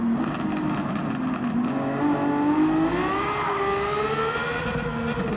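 A race car engine in Gran Turismo 7 drones loud and steady, its pitch climbing slowly through the gears with no talk over it.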